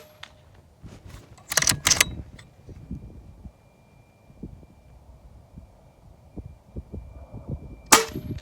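A JTS Airacuda air rifle shooting slugs and pellets outdoors, several sharp, loud cracks spaced out across the stretch, with faint clicks and handling noises between shots.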